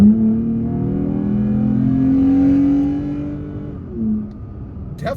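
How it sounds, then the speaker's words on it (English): A Toyota Tacoma pickup accelerating hard with its ECT power mode engaged, the engine droning and climbing steadily as the transmission holds the gear longer before a brief dip and a light click at the end. "we're going to nail the gas a bit and see"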